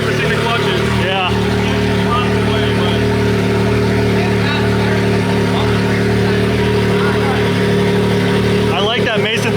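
A car engine cranks and fires up inside a heated shop, then runs with a loud, steady mid-pitched drone while people talk over it.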